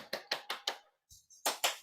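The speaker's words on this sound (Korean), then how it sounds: "황태진 선생님을 네, 큰 박수로 모시겠습니다." A small audience at a summer seminar claps: a few distinct, separate hand claps in a quick uneven rhythm, a brief pause, then two more claps, quiet and close.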